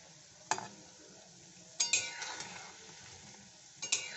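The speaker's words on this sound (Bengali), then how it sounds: "একটু ধৈর্য ধরে ভাজতে হবে আর কি" Sweet dough snacks of madan katkoti fry quietly in oil, a soft low bubbling punctuated by a few sharp clinks and scrapes of a utensil against the pan.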